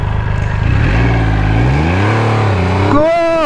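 A CAOFEN F80 electric dirt bike launching from traffic lights alongside a Triumph Rocket 3 motorcycle: a loud, close, rising motor whine that climbs and falls in pitch before a sharp high sweep near the end, with no voices.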